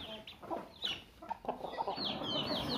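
Native country chickens cluck and chatter in a cage-system poultry farm, a lively run of close, overlapping clucks and squawks with no voices.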